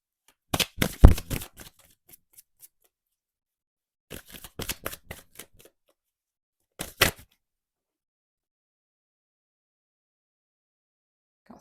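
Tarot cards are shuffled in three short, crisp bursts of riffling and slapping, close by and separated by long silent pauses.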